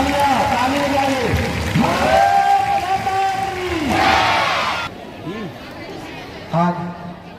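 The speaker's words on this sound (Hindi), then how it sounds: "ताली बजाइए, जोरदार तालियां, ताली बजाइए।" A crowd at a school's 15 August Independence Day celebration cheers and shouts loudly in sustained, overlapping bursts, with a quieter lull before one last short swell of voices.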